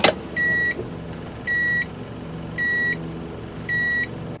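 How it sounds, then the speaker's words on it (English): Interior reverse chime of a Nissan S-Cargo: four evenly spaced electronic tones, each about a third of a second long, close and clear over low engine idle. "It also sounds a chime when you shift into reverse."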